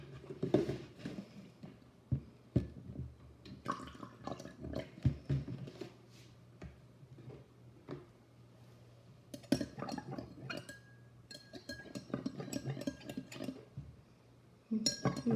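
Apple cider vinegar is stirred into water in a glass, producing irregular clinks and taps of a utensil against the glass in quick clusters separated by quiet gaps, with no voices.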